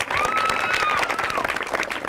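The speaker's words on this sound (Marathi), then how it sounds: "जोरदार टाळ्या सिद्धेशसाठी" A Marathi TV game show's studio audience claps together, with a faint whistle-like tone riding over the steady, fairly loud applause.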